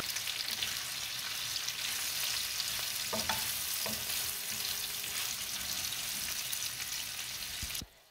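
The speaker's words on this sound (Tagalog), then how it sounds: "So ito na yung ating sibuyas. I-caramelize pa natin ng kaunti." Onions caramelize in a frying pan for a pullet steak dish, giving a steady low sizzle with a couple of faint utensil clicks before cutting off at the end.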